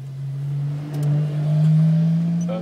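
A car engine drones steadily at a low, even pitch during a lap of the Nürburgring, heard close and loud from inside the vehicle with a slight swell in the middle.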